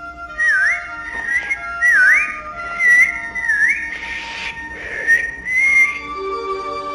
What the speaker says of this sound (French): ils n'ont qu'à siffler de cette façon